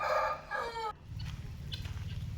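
A tethered rooster crows loudly and close by, one drawn-out call that cuts off abruptly, followed by low rumbling background noise.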